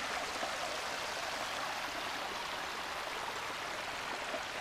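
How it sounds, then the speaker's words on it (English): A small river flows steadily near a bush campground, a broad, even rush of water that stays constant throughout without people talking. "Beautiful little river."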